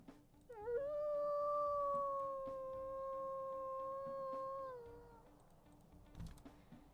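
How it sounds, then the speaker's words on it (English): A deep, long wolf howl from the WolfQuest game rises briefly, holds a steady tone for about four seconds, then drops off, loud and alone. "And that is his first howl, a little bit of a deeper one."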